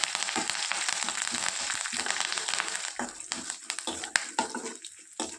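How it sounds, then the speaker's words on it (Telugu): Loud, steady crackling and sizzling of chillies and leaves frying in hot oil, with sharp pops and spatters near the end. "ఇప్పుడు మనము ఎండుమిర్చిని కరివేపాకు కూడా వేసుకొని తాలింపుని దూరగా వేయించుకోవాలి"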